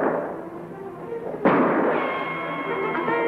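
A single sharp gunshot cracks out midway, loud and close, followed by a lingering reverberant tail over a low background murmur.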